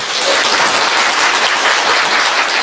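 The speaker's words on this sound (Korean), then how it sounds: "박수 한번 쳐주십시오" Crowd at a Korean political campaign rally claps loudly and continuously, a dense, even wash of applause filling the whole stretch without pause.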